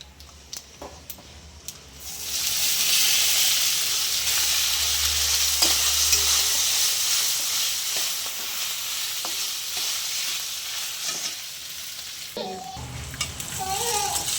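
Cooked rice tipped into a hot frying pan of oil with chillies and asafoetida, a loud steady sizzle rising after a few soft taps and holding, with light stirring scrapes near the end.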